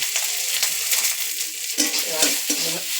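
Spice paste of turmeric, ginger, garlic, cumin and black pepper being stirred in a pan for a sour vegetable chorchori, giving a steady close sizzle with soft scraping strokes and no talking.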